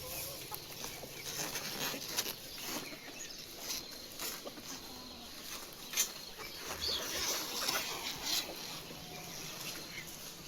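Farm chickens cluck faintly and intermittently at a distance, soft scattered calls over quiet outdoor background noise, with no talking.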